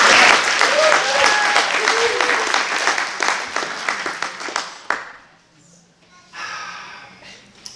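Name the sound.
congregation applause after a song at a service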